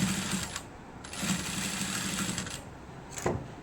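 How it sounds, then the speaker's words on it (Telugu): A sewing machine stitches beside a blouse's boat neckline in a quick steady mechanical whir, running in close bursts with brief pauses between them and no talk. "మీకు నచ్చితే దీని పక్కనే నీట్గా స్టిచ్ వేసేసేయండి."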